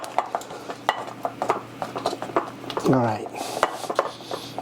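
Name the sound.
stirring white chocolate mint fudge mixture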